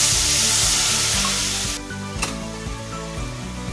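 Water poured into a hot pan of Bengali-style sarputi fish curry with bay leaf and green chili paste, a loud steady sizzle that drops abruptly to a softer bubbling hiss, with no talk.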